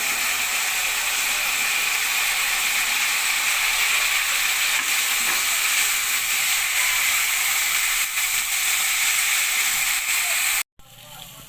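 Chicken sizzles in hot spiced oil with curry leaves, a loud, dense, continuous frying hiss held for about ten seconds before cutting off abruptly.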